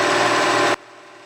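Machine cutting with a countersink to clean up a corner of a rotary fixture plate, a loud steady high whine that stops abruptly, leaving a quieter low hum.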